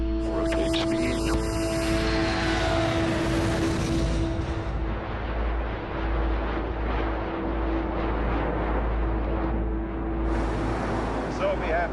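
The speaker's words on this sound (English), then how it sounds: "Clear for takeoff, NASA 817 Heavy." NASA 817 Heavy research aircraft taking off, a steady loud engine roar and drone with a tonal hum heard from inside the cabin, and voices talking over it.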